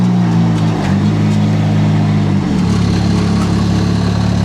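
The engine of a compact loader drones at a steady, loud pitch as the machine cruises along. Partway through the pitch drops and settles lower, with no talk.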